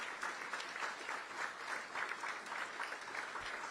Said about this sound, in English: Let's give them a big rousing round of applause for everything they've done to make Aurora this great city.